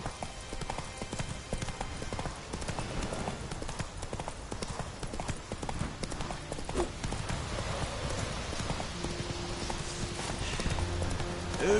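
Hooves of a horse gallop in The Witcher 3, a rapid, continuous clip-clop under game sounds, with a brief whinny, held at a steady, fairly quiet level throughout.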